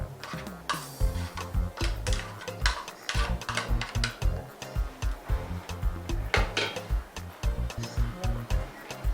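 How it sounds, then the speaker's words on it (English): Chopped onions go into a cooking pot while Ofe Oha soup is being prepared, with steady scraping and rubbing clatter in the pot repeating in quick, irregular strokes throughout, moderately loud and close. "Alright, so I'll be going in with my chopped onions now."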